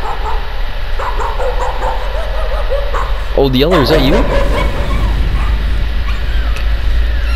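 A dog in a video game barks in a quick burst of yelping, whimpering barks midway through, over steady game audio while someone talks.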